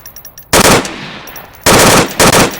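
Loud, close gunfire from a weapon in the VR shooter Onward: two heavy bursts of rapid automatic shots separated by a short pause, with no talking.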